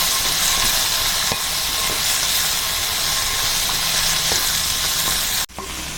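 Chopped tomato sautés in a pan for white sauce pasta, a loud continuous hiss and sizzle with occasional spoon scrapes, cutting off abruptly near the end.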